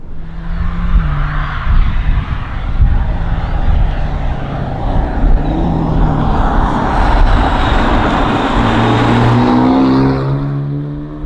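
Maserati Grecale engine accelerating hard in turbo mode, a loud continuous roar with rising pitch that builds over several seconds, no voices.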